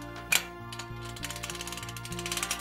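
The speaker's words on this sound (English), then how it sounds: "bring out some slack from the ratchet winch, put, engage that, just like that, and then we'll tighten that" A ratchet winch on a thoracic traction table clicks as it is engaged and tightened: one sharp click, then a steady run of small, close ratcheting clicks over a low mechanical hum, with no voices.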